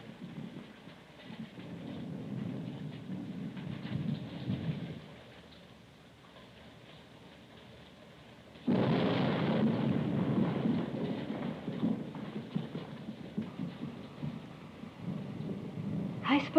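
Steady pouring rain with low rumbling thunder in a film scene, a loud broadband wash that dips briefly midway before a heavy thunderclap swells back in and rolls on to the end.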